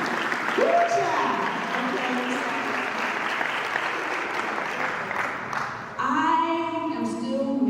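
Audience applause for mothers at a women's health symposium, a steady wash of clapping from a room full of people that holds at one level for several seconds, with a voice speaking briefly near the end.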